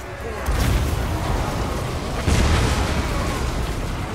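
Deep, rumbling booms of Hell Cannon fire in a video game battle roll out in two heavy bursts, each followed by a sustained crackling roar, like cannon blasts in a battle.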